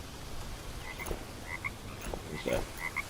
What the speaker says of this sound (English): Frog over there.